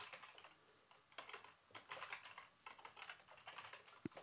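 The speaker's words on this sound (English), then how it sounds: "I've got a bit messy typing today." Fast, uneven typing on a computer keyboard placed awkwardly away from the microphone, a quiet stream of light key clicks in irregular bursts with short pauses and one sharper tap near the end, no talk.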